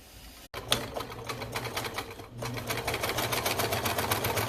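Sewing machine stitching a seam on a jacket sleeve: a fast, even mechanical needle rhythm that starts after a brief pause, drops for a moment, then runs steadily to the end.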